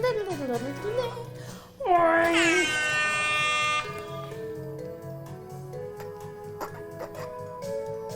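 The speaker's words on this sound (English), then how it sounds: "Medicinal air horn." A loud, blaring air horn bursts in for about two seconds, sharp and brassy, after a voice and before quieter talk resumes.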